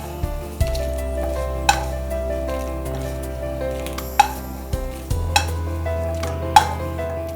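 Chillies frying in a teaspoon of coconut oil in a pan, a steady close sizzle punctuated by several sharp clinks of a spoon stirring against the metal.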